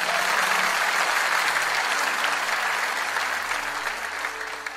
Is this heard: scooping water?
no